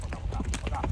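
Horse hooves clip-clopping at a ranch in Baviácora, a quick run of close, rhythmic hoof knocks over a low background rumble.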